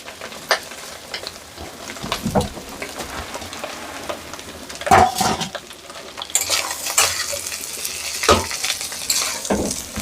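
Fried egg noodles tossed and stirred in a hot pan, with a sizzling hiss under repeated metallic scrapes and clinks of the utensil against the pan, close and fairly loud.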